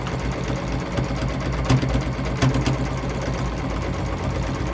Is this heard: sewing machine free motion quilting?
yes